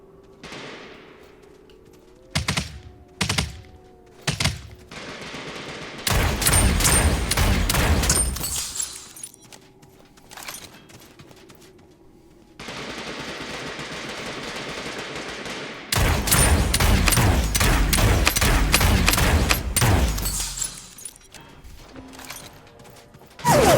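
Bursts of video game gunfire aimed at the player crackle in two long, dense volleys with a few shorter shots between them, set against quieter in-game stretches.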